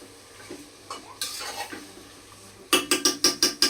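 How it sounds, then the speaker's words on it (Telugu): Raw prawns and gongura leaves being stirred gently in a pot, soft scraping and clinks at first, then a run of six sharp, evenly spaced metallic spoon knocks against the pot rim near the end. "రొయ్యి నలగకుండా లైట్గా ఇలా తిప్పుకుని"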